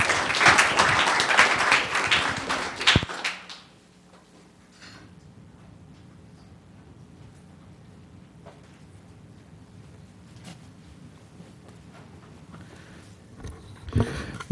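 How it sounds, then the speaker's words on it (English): A crowd at a town council meeting applauds loudly for a few seconds, then the clapping dies away abruptly into a quiet room hum with a few faint clicks and knocks. "Another round of applause"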